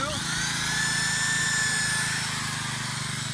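A power drill whines loudly and continuously as it bores pilot holes into big wooden beams for a raised garden bed, a steady close motor drone held through the whole stretch with no gaps.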